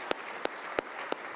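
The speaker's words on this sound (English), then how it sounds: "please give a round of applause to our 2 panelists here today." Audience applause for two panelists at a Minnesota agriculture and food summit, heard as four sparse, separate handclaps in a steady rhythm against a quiet room.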